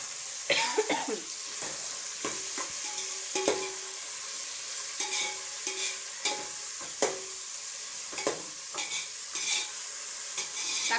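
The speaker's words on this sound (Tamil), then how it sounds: "தக்காளி நல்லா வதங்கட்டும்." Three tomatoes sautéing in a pan with onions for a Chennai-style duck curry. A constant sizzle runs beneath repeated scraping strokes of a spoon against the pan, with metallic clinks spread through the stretch and a brief cough near the start.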